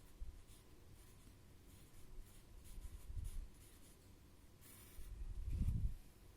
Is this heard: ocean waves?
no